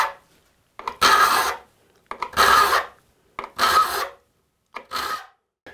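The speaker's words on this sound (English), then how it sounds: "The actual sharpening on this one only takes about 3 or 4 minutes." File strokes on the teeth of a hand rip saw: four loud, bright rasping pushes about a second apart, each followed by a short quiet pause, close up with no talking.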